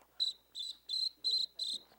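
An ancient American wind instrument imitates a cricket's chirp, giving five evenly spaced, shrill trilled bursts that sound close and clear, with no talk over them.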